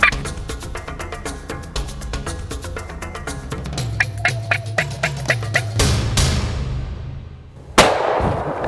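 A single sharp gunshot rings out close by near the end of a late-season turkey hunt, fired at a turkey, after a stretch of gobbling, fowl calls and scattered clanks.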